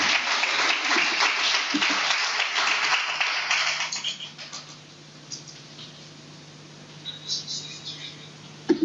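Audience applause at a lecture as the speaker walks to the podium, steady crowd clapping for about four seconds that fades away, leaving quiet room tone with a low hum.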